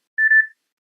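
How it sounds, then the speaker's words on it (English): One short electronic timer beep sounds alone in quiet surroundings during a space development panel discussion, lasting about a third of a second. "I'm just turning off my timer."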